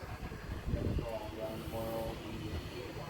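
A heritage railroad train behind a 2-6-0 steam locomotive departs a station, rumbling and rolling under a steady low mechanical drone, with a brief rising whistle-like tone and people talking nearby.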